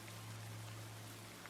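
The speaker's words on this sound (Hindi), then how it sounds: "उधर बारिश रुकने का नाम ही नहीं ले रही थी।" Heavy rain falls in a steady, even hiss, faint and continuous, with a low hum running underneath and no breaks in the downpour.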